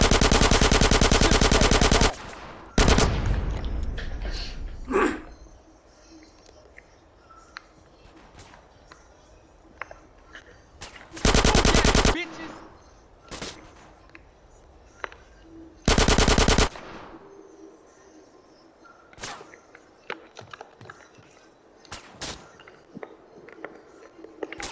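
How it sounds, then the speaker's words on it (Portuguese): Machine gun fire in GTA San Andreas Definitive Edition, several loud sustained bursts at intervals amid scattered single shots and quieter game ambience. "Tá vindo de onde de tiro, cara?"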